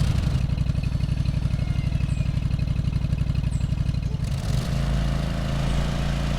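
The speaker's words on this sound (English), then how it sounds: "this is really just a straight-up lawnmower, not just a tractor" A lawn mower engine runs steadily in the Lawn Mowing Simulator video game, a loud, close, continuous drone whose tone shifts slightly partway through. No one speaks.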